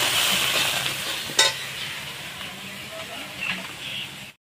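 Spice masala of ginger, cumin and chilli paste sautéing in a pan for a light rohu fish curry, a soft steady hissing sizzle with one sharp scrape and occasional stirring, close, ending abruptly in silence.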